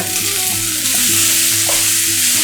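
Sweet potato frying in a pan, a loud, steady close sizzle with faint stirring scrapes and no voices.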